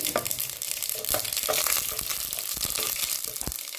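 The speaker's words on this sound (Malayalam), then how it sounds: "ചട്ടിയിൽ എണ്ണ ഒഴിച്ച് കുറച്ച് കടുക് ഇട്ട് കൊടുക്കുക" Mustard seeds splutter and crackle in hot oil in a pan while a sardine curry is being prepared, a close, busy sizzle with rapid popping bursts throughout.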